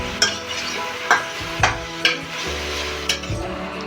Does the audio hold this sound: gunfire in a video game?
no